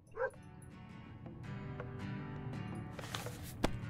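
A dog in the video game 60 Seconds! Reatomized gives a single short bark near the start, followed by quiet game ambience with soft clicks and no talking.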